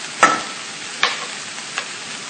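Onions being stirred with salt, red chili powder and sambar masala in a pan for a Brussels sprouts subzi: three separate scraping strokes, close and fairly loud, over a low sizzle, with no talking.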